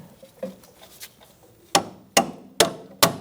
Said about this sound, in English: I'm just tapping it with a little bit of a little sledgehammer just to get it through.